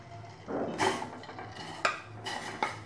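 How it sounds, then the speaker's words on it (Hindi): Mawa is stirred into hot milk in a pot, a spoon scraping and swirling with soft rushing sounds and a couple of sharp taps on the metal. "और मावे को अच्छे से दूध में मिक्स कर लेंगे"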